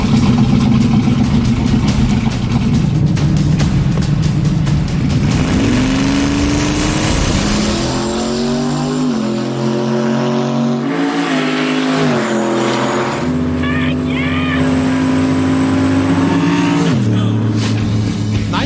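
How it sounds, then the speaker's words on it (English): A loud drag racing car engine roars and revs hard down the strip, climbing through gears with rising pitch in a long continuous run, close by. "It's just going to be the fastest this car's ever gone, right now."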